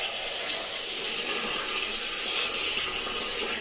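Water runs steadily from a tap over sliced arrowroot set to soak, a continuous close hiss and splash at an even level with no talk.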